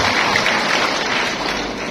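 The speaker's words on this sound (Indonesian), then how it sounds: "Tepuk tangan untuk bapak-bapak semua." A crowd at an Indonesian religious gathering claps together for a speaking ustadz. The applause is steady and dense and fades slightly toward the end.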